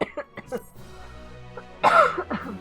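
Someone coughs close by, a few short throaty bursts early on and a stronger, louder cough near the end, separated by quiet gaps.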